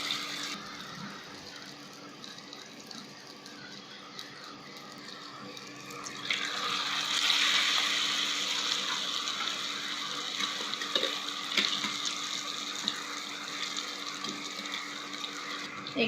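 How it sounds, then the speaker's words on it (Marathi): Vegetable kebabs dipped in cornflour paste fry in oil over a very low flame, a steady close sizzling hiss that swells about halfway through and keeps crackling softly to the end. "आता आपण एक एक करून हे कबाब तळून घेऊया."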